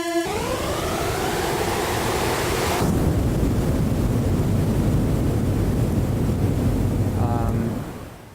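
A reverb-drenched synth riser swells into a wide, washy noise tail that sustains loudly for several seconds before cutting off, with no voices.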